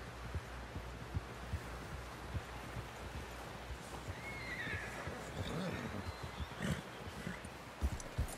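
Horse whinnies and snorts near the middle of a busy game scene from Red Dead Redemption 2, over a steady low rumble with scattered thumps and hoof-like knocks.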